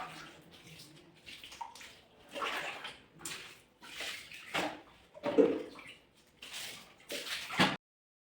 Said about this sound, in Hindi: और इसको अब धुल के रख देते हैं।